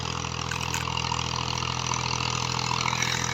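Nearby, the engine of a 2000 Massey Ferguson 240 tractor pulling a nine-tine cultivator in Punjab, Pakistan, drones loud and steady with a low throb, and nobody speaks.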